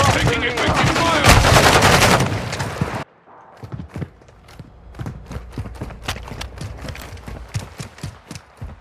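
Gunfire in Call of Duty Modern Warfare 2 on PS5 multiplayer: a dense loud burst of shooting, then after a cut a rapid run of sharp, quieter shots in quick succession.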